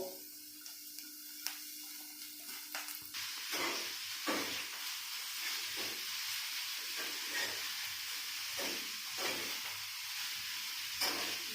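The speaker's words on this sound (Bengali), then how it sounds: "বাঁধাকপিগুলো ভালো করে ভেজে নেব।" Shredded cabbage frying in a pan, after carrot, sends up a loud, steady hiss and sizzle, with stirring scrapes and clicks punctuating it, heard close with no talk.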